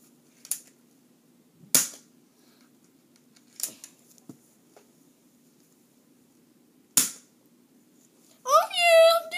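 Gunshots in a school-themed video game, five sharp isolated cracks spaced irregularly over quiet, followed by a short burst of voice at the end.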